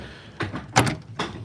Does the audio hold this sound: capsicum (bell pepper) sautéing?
no